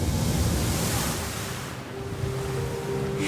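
Ocean waves breaking on a rocky shore, a broad continuous roar of surf and spray with some wind buffeting, swelling and easing slightly without distinct separate crashes.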